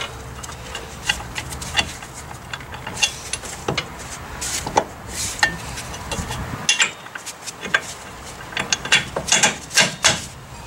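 A car jack ratchets in a steady run of clicks while lining up the front five-lug brake spindle on a Foxbody Mustang conversion, with metallic knocks of parts shifting close by.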